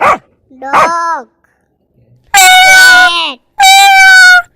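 A dog barks and yips in short loud bursts, a couple of quick barks followed by two longer howling cries, with silent gaps between.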